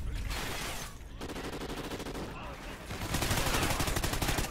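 Rapid bursts of gunfire in Call of Duty: Ghosts on PS4 crackle in quick succession, pausing briefly before a denser, louder volley near the end.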